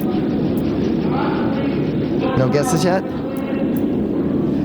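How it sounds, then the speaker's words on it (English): Curling stones slide across the ice at the Columbus Curling Club rink, making a steady low rumbling roar that fills the room. A voice talks over the sound. "Curling. Curling in Columbus."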